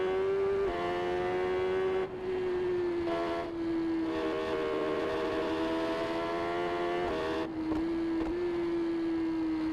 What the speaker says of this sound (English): make sure you can hear the engine a bit more